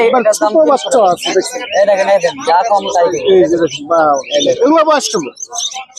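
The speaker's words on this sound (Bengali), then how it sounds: "এই দেখেন শালিক পাখির বাচ্চাগুলো" Young myna chicks at a bird market chirp in busy, overlapping calls, loud and close, mixed with people talking nearby.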